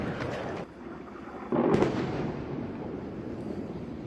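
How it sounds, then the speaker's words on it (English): Iron Dome missile interception explosions boom in the distance during a rocket attack, a muffled blast near the start and a louder, rumbling one about a third of the way in, leaving a lingering low roar. "You hear that explosion? That's an interception."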